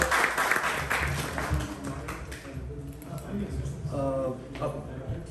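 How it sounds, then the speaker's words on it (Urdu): Audience members clap for guests at the close of an event, the scattered applause strongest early on and then thinning beneath a voice speaking. "بہت سی تالیاں ہمارے مہمانوں کے لیے اس سفر پہ"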